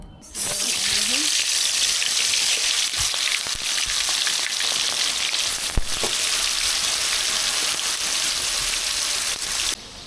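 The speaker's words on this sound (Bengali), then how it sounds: "মুরগির মাংস মাখানো হয়ে গেছে আর কড়াইতে তেলও গরম হয়ে গেছে এবার চিকেনটা হালকাভাবে ভেজে নেব" Marinated chicken fries lightly in hot oil in a wok, a loud, continuous close sizzle and crackle that holds steady for about ten seconds before cutting off.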